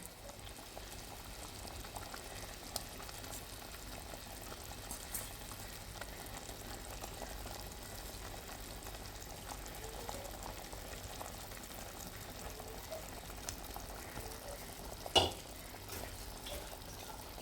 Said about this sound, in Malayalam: അയില മീൻ കറി നന്നായി തിളച്ച് വന്നിട്ടുണ്ട്